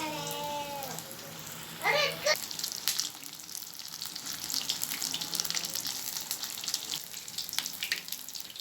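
Chilli bajji fritters, battered green chillies, sizzle and bubble steadily in hot oil, a close, continuous frying hiss with a few brief clinks and splashes.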